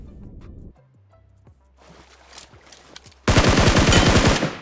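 Gunfire in PUBG Mobile comes as a long, loud, rapid burst of automatic shots near the end, preceded by a few fainter sporadic shots and low water-like ambience.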